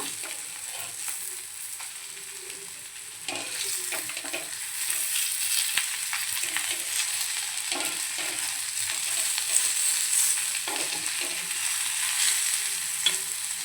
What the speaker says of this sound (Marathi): मिडियम गॅसवरती एका साईडनं दोन मिनटं फ्राय करून घेऊया